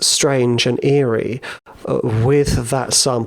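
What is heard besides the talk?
No everyday noise stands out behind the speech.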